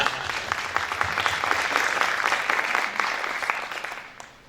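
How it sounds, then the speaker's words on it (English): An audience at an investor panel gives a steady round of applause with dense, moderately loud clapping that holds evenly and then fades out over the last half second. "a round of applause for."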